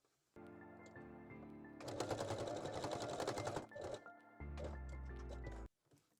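Domestic sewing machine backstitching the center front seam of a bra: short loud bursts of rapid needle chatter, a long stitching run in the middle, then another steady burst before stopping, close and alone.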